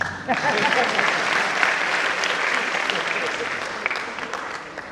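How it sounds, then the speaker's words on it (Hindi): A crowd at the 75th anniversary gathering of the Shri Kashi Vishwanath Seva Samiti breaks into loud, sustained applause that starts abruptly and carries on for nearly five seconds, with voices mixed in. "बजा सकते हैं ताली।"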